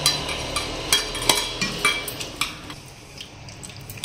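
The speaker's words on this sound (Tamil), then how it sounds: "கொஞ்சமா தண்ணி ஊத்தி கட்டி இல்லாம கரைச்சுக்கணும்." A spoon stirs flour into a little water in a metal vessel until it is free of lumps, giving rhythmic, fairly close clinks and scrapes roughly twice a second that fade toward the end.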